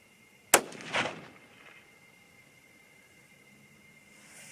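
A single sharp report from a 6.5 Creedmoor rifle firing a Varget powder load, a sudden loud crack with a brief echo tail, then quiet outdoor ambience.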